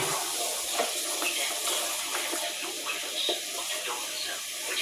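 Tap water pours steadily into a kitchen sink to soak a dish, a close, continuous splashing hiss that runs unbroken throughout.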